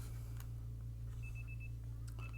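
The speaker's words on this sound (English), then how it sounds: "The next day, your alarm is going off." An alarm clock beeps in Pokemon Legends ZA, with short electronic tones over a steady low hum.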